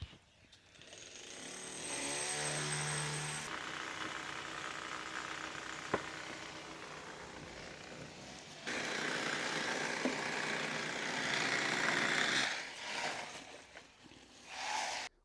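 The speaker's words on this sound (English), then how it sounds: "Richard is now going to start the coring process" Core drill boring a vent hole through a house wall for a damp vent: a steady, fairly loud grinding drone that runs nearly continuously for about twelve seconds, shifting pitch partway, then trails off with a brief burst near the end.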